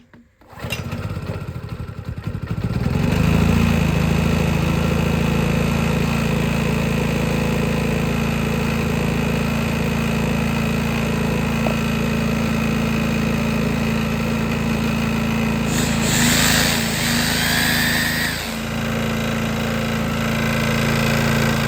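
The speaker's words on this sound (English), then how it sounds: "it's all well and good if the engine runs" An old Suzuki SE500A vintage generator engine starts up and settles into a loud, steady, rattling run that continues without a break, close by and with no voices.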